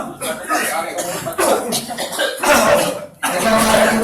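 Harsh, forced coughs burst out repeatedly at close range during an Islamic ruqyah healing session, mixed with a speaking voice and some stifled chuckling sounds.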